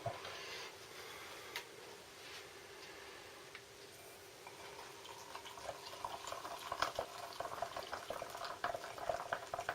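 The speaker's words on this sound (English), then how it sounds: "let's get some water added to it" Water poured into the contents of an old British army 24-hour operational ration pack, a steady trickling, hissing wash of liquid close by, with no talking.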